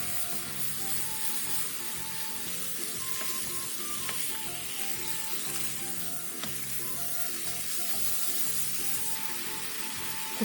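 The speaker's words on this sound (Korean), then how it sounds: "그 다음 김치를 넣고 골고루 어우러질 만큼 볶아주세요." Thin-sliced pork belly and kimchi stir-fried over high heat crackle with a steady, loud sizzle, with light scraping from stirring and occasional small pops, and no voices.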